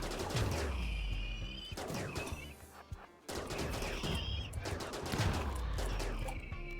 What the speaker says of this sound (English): Oh god, where did you throw the grenade?